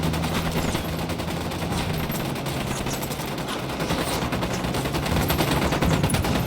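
Dense sustained gunfire in Ghost Recon Wildlands, rapid overlapping bursts and shots rattling continuously at close range with no break.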